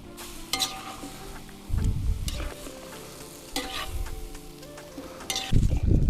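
Lamb shurpa braises in a kazan, a wooden spoon stirring the sizzling meat and vegetables: steady frying hiss with repeated scraping, stirring strokes and a few light clinks of the pot, close and moderately loud.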